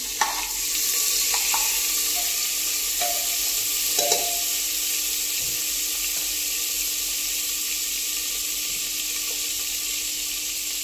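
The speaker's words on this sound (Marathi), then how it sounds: "कुकरमध्ये थोडंसं घालून घेते मी तेल आणि त्याचमध्ये थोडंसं बटर" Oil with a little butter heats in a pressure cooker for pav bhaji, giving a steady soft hiss and sizzle with a couple of faint clinks early on and no one speaking.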